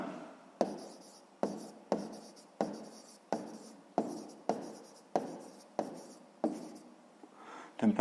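Pen writing on paper during a sixth-grade maths exercise: close, crisp scratching strokes come in a steady series of about ten short bursts, each starting sharply and fading, with no talking.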